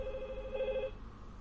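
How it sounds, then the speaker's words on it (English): A short electronic ringtone from an IP video intercom monitor chimes in a quick repeating pattern, faint and thin, then cuts off into quiet background hiss. "We have different ringtone for selecting"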